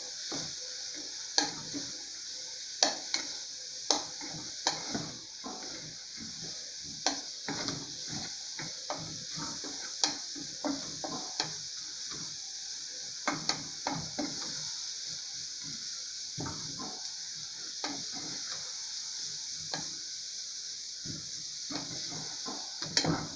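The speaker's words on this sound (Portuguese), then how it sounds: "E aí vamos refogar mais um pouquinho." Sardine pasta sauce with oregano sautéing in a pan, a steady soft sizzle under repeated scraping taps of a spoon stirring against the pan, close and moderately quiet, with no one talking.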